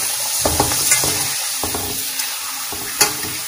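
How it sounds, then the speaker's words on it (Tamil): Papad (appalam) frying in hot oil on a stove, with bursts of crackling sizzle and bubbling as it is stirred and turned, close and fairly loud with short sharp pops, no voices. "இந்த ஸ்டேஜில் வந்து நம்ம அப்பளத்தை ஃப்ரை பண்ணிக்கலாம்."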